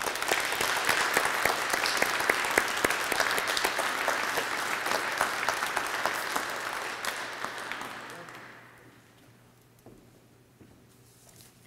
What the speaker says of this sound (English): So I think they deserve a big round of applause.